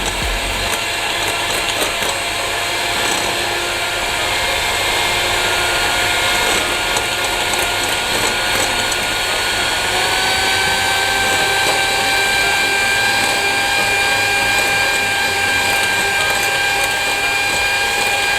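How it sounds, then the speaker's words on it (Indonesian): An electric hand mixer beating a powdered sugar mixture for Christmas cookies, a loud steady motor whine with high tonal hum, the pitch shifting partway through, running continuously without talk. "Kita mixer dulu sampai berbusa."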